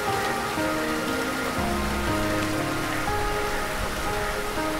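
Heavy monsoon rain falls on a large brackish lagoon in Sri Lanka, a dense, steady hiss of drops with soft low sustained tones underneath.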